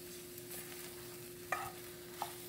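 Bacon frying in a very hot pan: a soft, steady sizzle, faint and continuous, with a couple of light utensil taps or stirring clicks over it.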